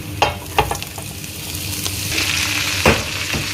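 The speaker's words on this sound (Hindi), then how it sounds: "तो अब मैं इसमें डाल रही हूँ ये कैबेज।" Cabbage tossed into a hot pan with fried garlic and chilies, sizzling loudly and steadily while a spatula scrapes and knocks against the pan a few times.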